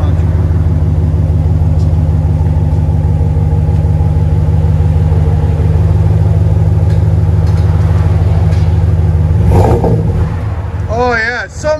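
A Dodge Ram with a 5.7L HEMI V8 and an aftermarket exhaust idles with a deep, loud rumble, then revs to a higher pitch and settles back, recorded close, with people talking nearby.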